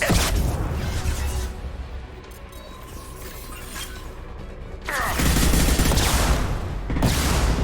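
Turret gunfire in the Mass Effect 2 video game: bursts of rapid mechanical shots and impacts, quieter mid-clip and then louder, dense sustained firing, with no talk.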